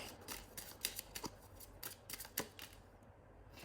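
A deck of tarot cards shuffled by hand, giving a run of quick papery riffles and taps in uneven bursts, close and fairly quiet, with no one speaking.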